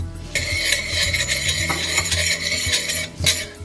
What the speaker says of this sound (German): Das muss auch nicht lange brutzeln